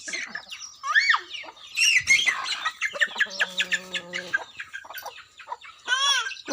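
Chickens cluck and squawk at close range, a run of uneven calls with sharp bursts and a short rapid cackle in the middle, no voices over them.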